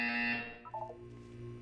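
A short electronic buzzer tone from the Portal 2 video game sounds loud at first, then fades into a few softer descending chime notes with a low hum underneath.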